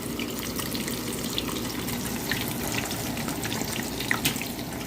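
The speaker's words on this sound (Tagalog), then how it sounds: "Magpiprito na tayo ng lumpia." Lumpia spring rolls frying in a pan of oil, a steady close crackle and sizzle with scattered sharp pops and no talking.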